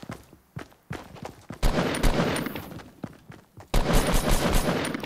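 Bursts of gunfire from the Fortnite video game on iPhone, a few scattered shots early and then loud sustained volleys with brief pauses, close and dense, with no talk over them.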